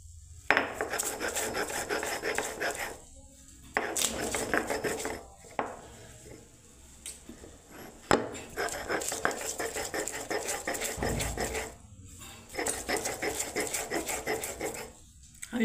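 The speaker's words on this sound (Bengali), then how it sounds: "আমি শিলনোড়ায় ধনে পাতা, পুদিনা পাতা, রসুন আর কাঁচা লঙ্কায় পিষে নিচ্ছি" Coriander leaves, mint, garlic and green chillies are ground by hand on a stone slab with a stone roller. The rasping grind comes close in rhythmic bursts, with short pauses between strokes.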